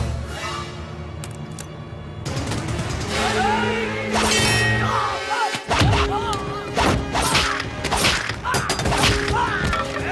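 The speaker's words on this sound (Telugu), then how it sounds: "కారు అద్దాలు పగలగొట్టి" Car window glass smashed in a staged street confrontation, a series of loud crashing whacks and shattering impacts over several seconds, mixed with thuds and commotion.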